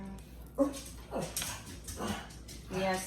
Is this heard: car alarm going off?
no